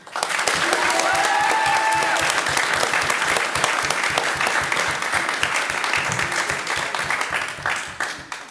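Loud, dense audience applause in a hall at a student parliamentary debate final as a speaker is introduced, a continuous roar of many hands clapping that holds strong for several seconds and tapers slightly at the end.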